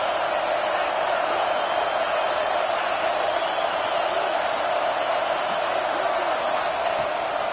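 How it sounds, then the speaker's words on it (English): A football stadium crowd at a Michigan game rising up and cheering, a dense, steady roar of many voices filling the space, continuous and loud throughout. "This crowd rising up, sensing that its defense needs some help."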